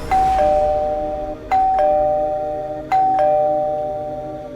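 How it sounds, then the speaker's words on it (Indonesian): An electronic ding-dong doorbell rings three times in a row, each chime bright and clear with a short ringing tail, used as a sound effect in a spooky storytelling piece. "Suara bel membuatku semakin terkejut"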